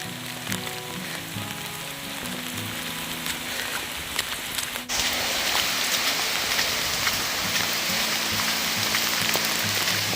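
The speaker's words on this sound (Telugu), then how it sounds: "ఫ్రెండ్స్, వర్షం వస్తుంది." Steady rain pours down in a forest, a dense, continuous hiss of drops on leaves and ground that jumps noticeably louder about halfway through and stays heavy, with no voices.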